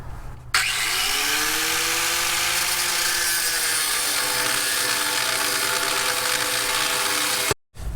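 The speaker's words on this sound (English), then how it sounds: "the cutoff wheel just wants to keep grabbing it because the abrasive wheels aren't really great on aluminum" An abrasive cutoff wheel grinds through the weld of an aluminum semi-truck fuel tank, making a loud, continuous high-pitched grinding whine with wavering tones that starts abruptly, holds for about seven seconds, then briefly drops out.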